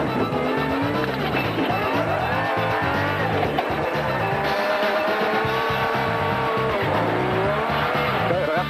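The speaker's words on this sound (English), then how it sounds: "listen to the Ranger's engine working overtime" A Ford Ranger's engine strains hard through loose sand on a Limpopo 400 off-road race stage, a loud sustained roar with rising and falling pitch, tire noise mixed in throughout.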